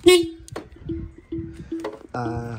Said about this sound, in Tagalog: Tetesting po si Sedi ng mga busina